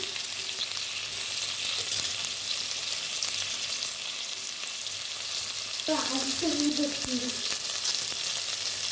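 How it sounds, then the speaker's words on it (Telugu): Onions frying in a pan for mushroom biryani give a steady, close sizzle that runs the whole time, with a burst of stirring and louder crackle near the end. "ఆనియన్స్ మగ్గుతున్నాయి కదండి"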